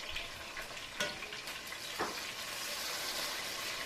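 Peppers dropped into hot oil for Puerto Rican guanimes, giving a steady close sizzle and crackle with a few sharper spits near the start and middle, no voices.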